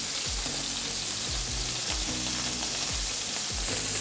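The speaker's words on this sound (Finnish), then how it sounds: "Nostetaan liha pannuun, annetaan se hetken aikaa siinä ihan rauhassa paistua." Beef tenderloin sizzles and fries in a hot pan with garlic, a loud continuous crackling hiss with repeated stirring or scraping movements and no talk.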